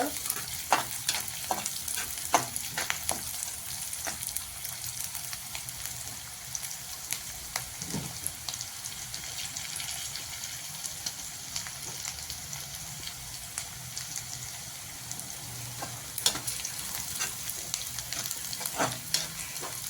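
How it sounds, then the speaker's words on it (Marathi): Onion, green chilli and peanuts frying in a pan for a crumbled chapati dish, a quiet steady sizzle broken by frequent sharp scrapes and knocks of a spoon stirring, with no voices. "हे बघा कांदा हिरवी मिरची शेंगदाणे चांगले परतून झाले"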